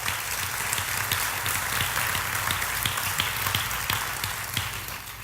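Church congregation applauding during a bilingual Spanish-English worship service, a dense, steady wash of many hands clapping at close range, with sharper individual claps standing out and no talk over it.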